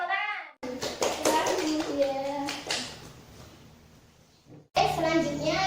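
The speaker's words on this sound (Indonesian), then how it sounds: "Oke, tepuk tangan." Classroom students clap their hands together in a short burst, with children's voices and chatter mixed in, and a teacher's voice speaking before and after the clapping.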